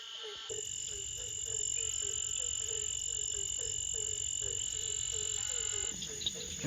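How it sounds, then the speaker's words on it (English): Barking tree frogs calling at night beside a pond, a steady run of repeated croaks at a quick even rhythm over a constant high insect drone, moderately near and alone. "two more barking tree frogs in Amplexus here"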